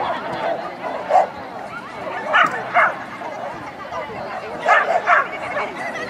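A dog named Bono gives high, yelping barks and whimpers in short bursts, with several louder yips clustered together, close by over a faint background.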